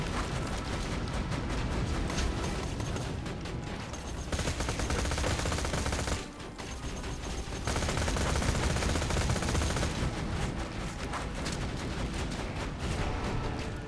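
Loud, sustained automatic gunfire and turret fire in Borderlands 2 pound almost without pause, heavy rattling bursts with a brief lull partway through before the shooting resumes.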